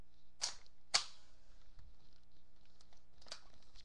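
An M4 carbine BB gun firing, two sharp close snaps in quick succession followed by a fainter third shot, with quiet pauses and light handling noise between.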